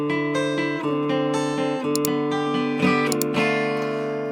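Electric guitar playing the riff with ringing dyads over a sustained drone, steady and fairly loud, plus a few bright accents, with no voices.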